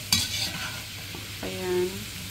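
Chicken pieces for calderetang manok sizzle briefly as they are stirred in a frying pan, a soft scraping and spattering at close range with no talk.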